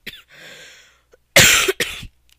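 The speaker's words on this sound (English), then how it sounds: "I've been coughing since 2 days ago" A person coughs several times up close, a short hoarse cough and a throaty breath followed by two loud, harsh bursts.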